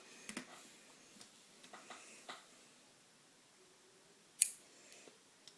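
Scissors cut fishing line in a few quiet, sparse snips and clicks, with one sharper, louder snip near the end, in an otherwise hushed room.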